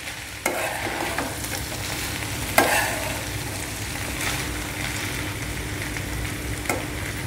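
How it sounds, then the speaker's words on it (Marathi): A spoon stirs jowar khichadi in a pan with the heat just switched off, a soft scraping and gentle sizzle running close and steady, with a few sharper clinks of the utensil against the pan and no talking. "परत एकदा सगळीकडे छान मिक्स करूया"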